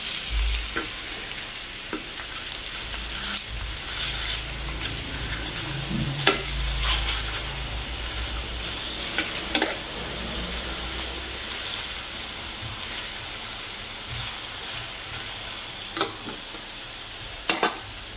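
Food frying and being stirred in a kawali, a steady sizzle with scattered scraping and clinking of a utensil against the pan over about eighteen seconds, no talking.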